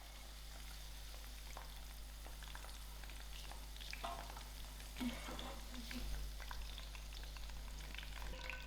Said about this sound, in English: I'm going to fry out my next batch of bhindi.